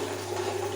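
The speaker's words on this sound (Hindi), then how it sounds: "ये पानी जो है भरा जा रहा है" Water pours steadily into a container, a continuous rushing fill with a steady tone and no pauses, close and fairly loud, with no voices over it.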